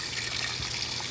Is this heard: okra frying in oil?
no